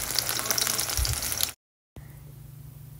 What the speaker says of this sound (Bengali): এই লাউটাকে হচ্ছে ফ্রাই করব ইফতারের জন্যে বেসনে ডুবিয়ে